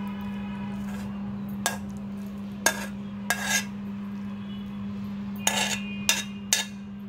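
Dishes and cutlery clink sharply several times while pumpkin flower fry is served onto plates, a series of separate close knocks and chinks over a steady low hum.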